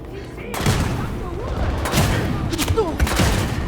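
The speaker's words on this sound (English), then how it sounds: "Let's shoot the Nazis." Gunfire and explosions rattle loudly and continuously while shooting Nazis in the video game Wolfenstein Youngblood, with bursts of shots over a dense battle din and voices mixed in.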